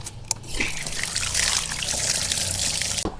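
Tap water runs steadily into a sink as hands are washed indoors, a continuous close splashing trickle with a brief knock near the end and no talking.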